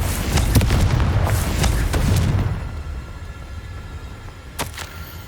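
A Confringo blasting spell detonates in Hogwarts Legacy: a loud, low rumbling burst with crackling debris that decays into a quieter tail, followed by a short sharp hit near the end.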